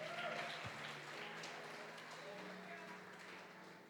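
Applause from a crowd at a church worship service, steady and somewhat distant, holding at an even level throughout.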